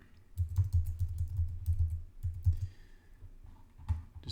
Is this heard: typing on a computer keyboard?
yes